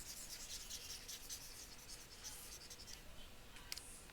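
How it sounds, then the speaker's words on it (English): An eraser rubs quickly back and forth across a board, a faint, steady dry scrubbing and swishing with small squeaks, heard alone without talking. "I'm going to erase this over here."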